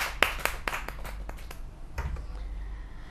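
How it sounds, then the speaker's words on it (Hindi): A kavi sammelan audience offers a handful of sharp, scattered claps for a poet, loud at first, then thinning out and fading to near silence. "एक बार पुनः मैं चाहूंगी कि एक बार तालियां हो जाएं विनय विनम्र जी के लिए।"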